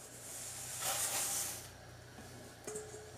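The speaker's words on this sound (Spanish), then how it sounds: "Ahora le voy a agregar las 2 tazas de arroz." Rice is poured into a pan of fried bacon and onion, bringing a soft, steady sizzling hiss that swells briefly and then fades, with a small clink near the end, faint and without talk.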